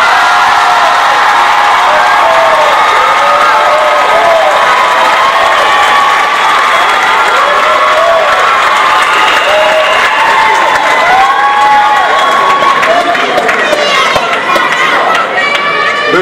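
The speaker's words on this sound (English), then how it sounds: "Big round of applause for the class of 2015 Student Theater." Large crowd at a high school arts graduation ceremony applauding and cheering loudly and continuously, dense clapping with whoops and shouts throughout.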